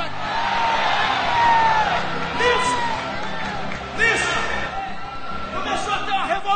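A church congregation at an evangelical revival service shouts glory together, a loud, sustained crowd roar of voices with rising whoops and cheers that swells and ebbs over several seconds.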